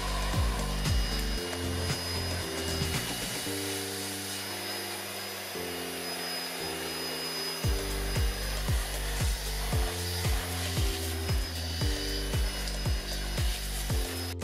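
A PRETTYCARE P1 Pro cordless vacuum cleaner hums steadily, its motor tone dipping and shifting as it moves, with scraping and rubbing against surfaces throughout.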